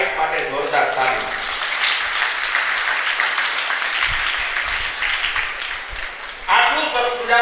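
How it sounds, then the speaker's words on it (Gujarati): Audience clapping at a school annual function in Amreli, a sustained broad wash of applause lasting throughout, swelling louder near the end. "એટલે એક વખત સાહેબ માટે જોરદાર તાળી."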